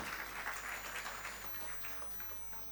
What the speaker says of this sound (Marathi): आपण जोरदार टाळ्यांचा आवाज त्यांच्यासाठी करूया.